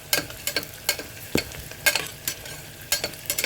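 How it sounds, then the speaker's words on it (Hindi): Onions browning in a pan over low heat, stirred with a spoon: a steady soft sizzle under repeated scraping strokes about every half second, close and fairly quiet. "तो प्याज को हम लाल करेंगे, ब्राउन चलाते हुए।"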